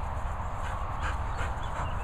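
Guard dogs whimper and pant close by in short, uneasy bursts over a low, rumbling background.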